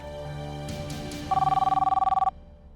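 A landline telephone rings indoors, a bright trilling electronic bell burst heard once, moderately loud, after some brief background movement and no speech.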